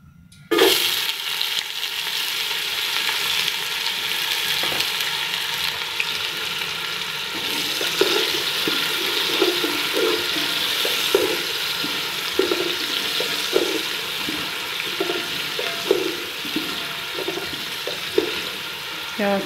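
Onions hiss and sizzle loudly as they drop into hot oil for aloo gobi salan, a steady, close crackle that stays constant throughout with occasional stirring clicks.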